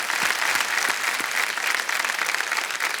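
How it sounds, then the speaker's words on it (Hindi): Sustained, loud studio audience applause fills the whole stretch, a dense even wash of many hands clapping at a quiz game show, with no voices on top. "एक बार अपने ही लिए ताली बजा दीजिए जोर से।"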